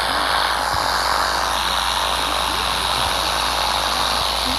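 Cessna 172 propeller engine in the GeoFS flight simulator game, a loud, steady droning hum with constant pitch that runs without a break, with no voices over it.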